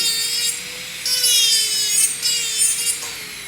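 A high-pitched dental handpiece grinding the contact of a temporary tooth, a whining drill tone with rising and falling scraping bursts, close and fairly loud.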